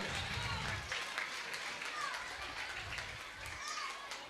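Audience applauding at a municipal school's annual day celebration in Vellore, a steady, fairly distant patter of clapping with children's voices and crowd chatter mixed in.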